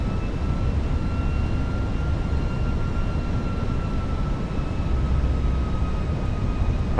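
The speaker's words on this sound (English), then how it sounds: "Hear those engines working." Airbus A320 engines drone in flight in Microsoft Flight Simulator 2024 (Fenix A320 model), a steady, loud broadband roar with a faint whining tone running through it, alone with no talk.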